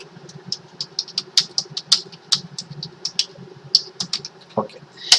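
Keys clatter on a computer keyboard in quick irregular bursts of close, crisp taps, with a soft low hum underneath.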